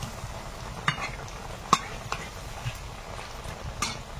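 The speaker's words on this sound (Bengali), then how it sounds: "আঁচটা কম রেখে একটু ভেজে নেব।" Oil frying in a kadai over a low flame, a faint steady sizzle with a few soft clinks of a utensil against the pan, quiet and without speech.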